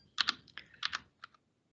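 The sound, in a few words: pressing buttons on a computer keyboard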